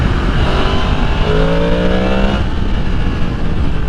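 A Yamaha MT10 SP crossplane motorcycle engine accelerates on a bumpy road, a loud, gritty, uneven roar climbing in pitch through the gears, heard close from the rider with no talk.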